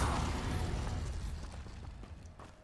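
Confringo explosive spell blast in Hogwarts Legacy, a muffled boom already underway that rumbles low and gradually fades out over a couple of seconds, fairly quiet with faint crackles trailing behind.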